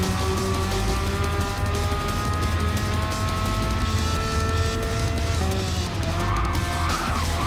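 Race cars in a racing video game, engines droning with shifting pitch as a car brakes hard into a kink, with a squeal of tires near the end.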